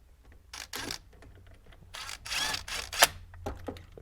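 Bolts are threaded partway in by hand while a Z31 short shifter is fitted inside a car, giving close, irregular clicks and rattling metal scrapes in scattered bursts with no talking.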